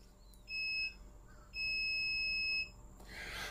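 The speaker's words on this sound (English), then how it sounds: "that is my hit timer" An interval workout timer sounds two clear electronic beeps, a short one followed by a longer sustained tone, high-pitched and steady in a quiet room, with a soft rustle at the end.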